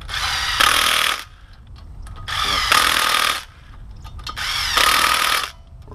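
Power tool running in three bursts of roughly half a second each, with short pauses between them, tightening the harmonic damper bolt on a 3.7L engine from a 2006 Jeep Grand Cherokee Laredo during a rebuild; loud and close, with no talking.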